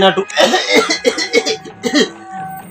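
A person coughing in a Telugu comedy short film, a series of close, loud, rough coughs in quick bursts, then a quieter throat sound at the end.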